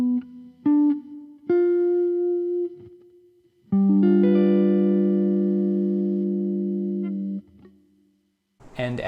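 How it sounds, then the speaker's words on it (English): Guitar through effects picks a few single notes, then a dominant seventh chord is strummed and rings with long sustain before decaying, heard up close and alone. "Now the fifth chord is a dominant seventh chord."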